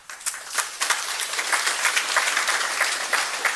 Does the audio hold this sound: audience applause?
yes